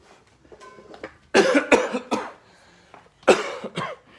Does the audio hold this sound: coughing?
yes